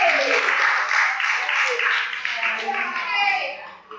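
Applause from a classroom group fills the room, steady and fairly loud for several seconds, with children's voices mixed in before it fades slightly.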